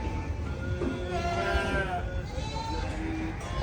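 Goats and sheep bleat at a livestock market in Ras Al Khaimah, several wavering calls rising over a busy crowd murmur and background chatter, moderately loud and close.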